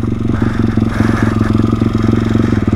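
A YCF 150 SM pit bike's single-cylinder engine runs close by while being ridden, a loud, throbbing, rapidly pulsing putter holding a steady, fairly low rev with a buzzy mechanical clatter.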